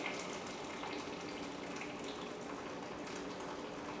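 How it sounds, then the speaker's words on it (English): Very hot water pouring steadily over tomatoes in a bowl, a continuous broadband gushing rush at low level with no talk. "put very hot water over tomatoes, and I will do this right now"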